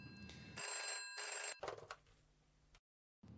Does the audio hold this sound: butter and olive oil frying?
no